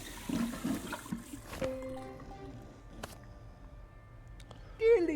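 Water pouring into a flask in the Simon the Sorcerer Origins adventure game, a soft gurgling fill that fades within the first couple of seconds, followed by quieter game sounds.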